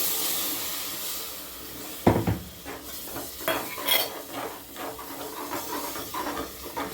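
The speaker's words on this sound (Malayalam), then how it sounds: "ഒരു ഗ്ലാസ് വെള്ളം ഞാൻ ഇപ്പോൾ ചേർത്തിട്ടുണ്ട്" A glass of water is poured into a pot of frying chicken curry masala, setting off a sudden burst of hissing steam and sizzle, then settling into steady bubbling with spoon scrapes and light clinks of the pot, close up.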